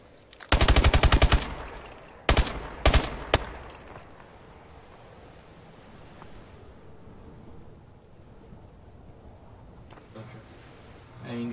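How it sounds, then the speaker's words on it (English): Gunfire from Call of Duty Advanced Warfare on the Horizon map: a loud rapid automatic burst, then a few sharper shots close together, trailing into a low rumbling game ambience. "my bullets are hitting the side of the wall too. So you can definitely shoot out of this glitch."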